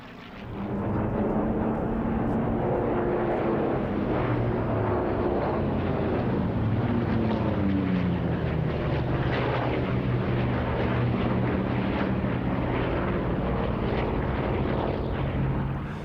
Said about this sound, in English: The Hurricanes have got on the Messerschmitt's tail.